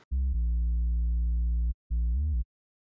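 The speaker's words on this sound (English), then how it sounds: "Next thing I added was this sub." Deep sustained sub bass tone in a hip-hop beat, one long held note followed by a short pause and a brief second note that bends slightly, clean and loud with no other sounds.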